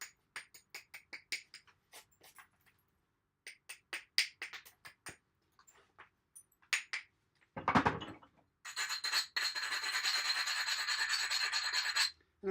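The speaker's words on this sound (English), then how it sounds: "So I'm just trimming the other side now." Sharp scraping and clicking strokes come from trimming the edge of a hand-made spear point, in irregular bursts close up, followed by a longer continuous rasping stretch.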